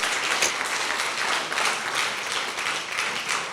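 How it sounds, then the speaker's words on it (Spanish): A church congregation applauds during a Spanish-language sermon, a dense, steady wash of many hands clapping together for several seconds without pause. "Denle un aplauso a Dios, por favor"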